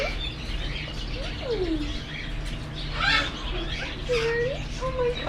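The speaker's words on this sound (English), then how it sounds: "She's an awesome bird." A pet bird aboard a sailing boat chirps and whistles in short rising and falling calls, fairly close, over a steady low engine or boat hum with people talking softly nearby.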